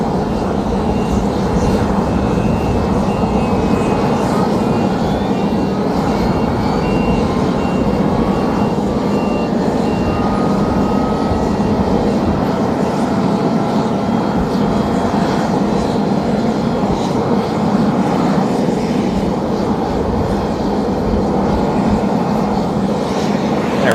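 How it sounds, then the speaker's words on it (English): Presidential V-22 Osprey tiltrotor aircraft heard outdoors in Cheyenne, a loud, constant rotor and engine roar holding steady throughout with faint higher tones drifting through it. "Those are the presidential V-22s."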